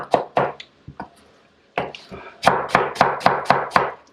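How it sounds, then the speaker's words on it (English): A knife chopping onions on a cutting board in a camper kitchen, a few scattered cuts, a pause, then a quick run of seven or eight even, close strokes, with no speech. "I could slice the onions like this and make little semicircles, little half rings"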